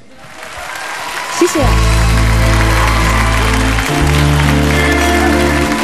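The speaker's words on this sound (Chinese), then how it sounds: "各位朋友，再次给他掌声鼓励鼓励。" A live concert audience claps in a broad wash of applause, with sustained music tones coming in and a brief word of thanks spoken over it.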